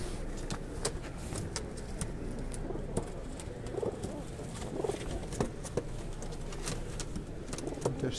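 Pigeons coo steadily at an outdoor bird market in Grajewo, soft repeated calls mixed into a busy crowd murmur and passing road traffic.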